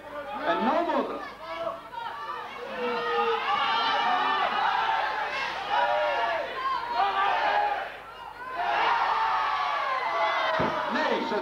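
A crowd at a 1992 strongman contest in Wymbritseradiel claps, cheers and chatters for several seconds, with whoops rising above the steady din and a brief dip before it swells again.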